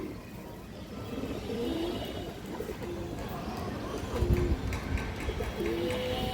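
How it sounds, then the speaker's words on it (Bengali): Pigeons coo repeatedly at a white-eyed pigeon sale with black-tailed, deep red-legged birds, soft rhythmic coos recurring under steady background noise with occasional traffic. "এই যে দেখেন চোখ সাদা চোখের কবুতর"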